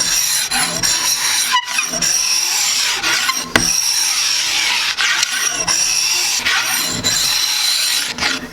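Knife shaving and scraping along a hickory board bow, steady rasping strokes repeated close up with brief pauses between passes, no talk.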